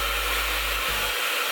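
A hair blow dryer runs steadily and loudly up close, a constant broadband roar with a brief dip in its low hum partway through.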